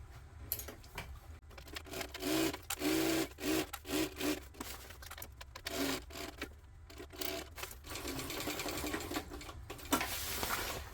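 A sewing machine stitches the lining of a Ben Bag in several short bursts of fast, steady whirring with brief pauses between them, then runs longer near the end, close and moderately loud.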